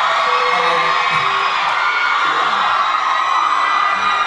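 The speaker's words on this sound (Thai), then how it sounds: "แล้วทำไมฝั่งนี้ต้องกรี๊ดดังเป็นพิเศษเนี่ย" A large audience at a live performance screams loudly and continuously, a dense wall of high-pitched shrieks and cheers without letup.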